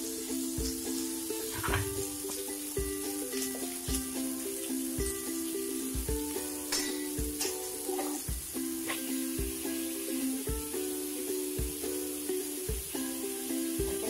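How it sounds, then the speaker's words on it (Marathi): Mutton pieces hiss and sizzle steadily in hot oil for a curry, with bright frying crackle throughout and repeated stirring scrapes and clinks at a close, even level. "आता यामध्ये आपण मटण टाकून घेऊ"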